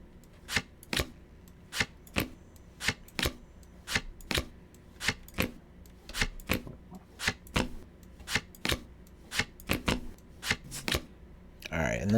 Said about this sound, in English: we're gonna just shuffle my lantern deck a couple times, and we'll shuffle the main deck too